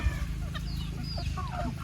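Native country chickens clucking and chirping close by as they eat scattered feed on a small farm, several birds calling over one another in short bursts above a low background rumble.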